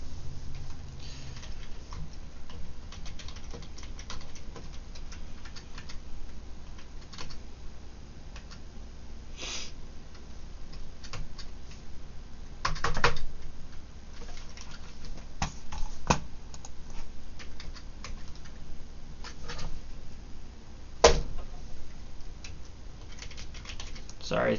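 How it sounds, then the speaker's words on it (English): Someone types steadily on a computer keyboard while coding. The keys give quiet, uneven clicks with a few sharper taps, and the typing carries on alone over low background noise. "Sorry, the keyboard was acting up there."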